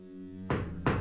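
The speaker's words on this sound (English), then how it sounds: "I'm gonna knock on the wall." Two sharp knocks on a wall inside a haunted mansion, about half a second apart, loud and close, with a steady low hum underneath and no talking.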